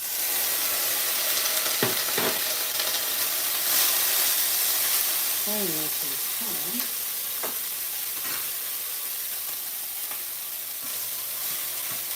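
Leftover noodles fry in a hot pot for a salmon teriyaki pad thai, a loud, steady close-up sizzle and hiss that runs the whole time, with a few stirring scrapes and brief squeaky tones partway through.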